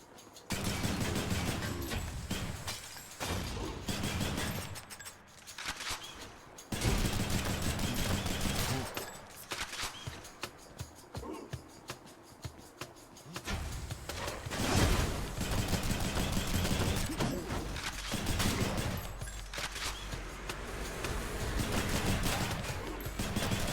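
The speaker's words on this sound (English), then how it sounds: "It's so hard to actually hit the things you want with this gun" Rapid gunfire from a weapon in the action game Hades, a dense, loud stream of shots with brief breaks, layered over game effects and music and heard without talking.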